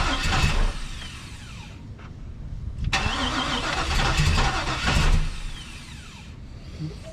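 LS3-swapped TBSS V8 cranking, catching and stumbling at a rough, uneven idle, loud and close, with surges in revs and a second start attempt midway, no talk over it.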